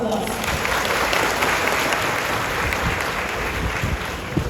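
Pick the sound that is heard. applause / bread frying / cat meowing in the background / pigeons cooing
applause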